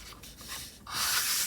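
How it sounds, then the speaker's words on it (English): A sheet of A4 card folded in half for pennants: a brief close scraping rub, then a louder, brighter sliding crease as the fold is pressed flat. "with the A4 piece of card, fold it in half"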